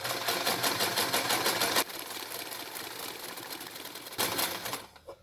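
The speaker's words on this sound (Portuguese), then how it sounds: "abaixo o calcador e vou fazer a costura" A sewing machine stitches straight-line quilting in fast, even bursts of rattling needle strokes, loud and close, pausing briefly for a quieter stretch before one more run and stopping.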